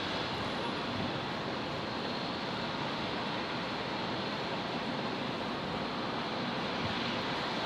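A jet airliner rolls down runway 01 right for takeoff at Brisbane International Airport, a loud, steady, broadband engine roar that holds without a break throughout.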